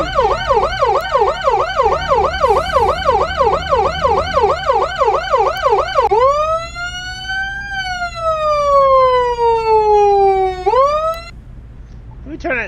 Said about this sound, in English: Let me turn that siren down just a little bit